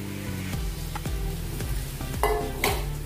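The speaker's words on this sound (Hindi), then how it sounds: "अभी हम साबूदाना डाल देंगे इसमें।" Sago pearls go into a hot pan for sabudana khichdi and are stirred, with a steady close sizzle, repeated scraping strokes of a spoon and a few sharp clinks against the pan.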